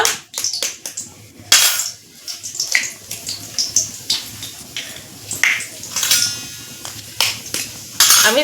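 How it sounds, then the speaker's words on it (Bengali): Eggs are cracked against a hard edge: a series of sharp cracks and taps, irregularly spaced, with faint drips and clinks in between, close up and no speech. "এখন আমি ডিমগুলো ভেঙে নিব"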